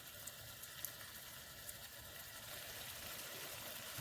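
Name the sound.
four salmon pieces cooking in a pan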